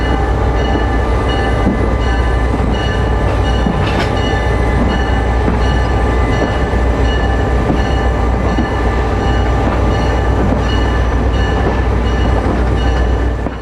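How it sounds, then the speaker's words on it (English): A Panama Canal Railway tourist train runs steadily, with a loud continuous rumble and rail noise close by and no talking. "let's climb on board a tourist train operated by the Panama Canal Railway"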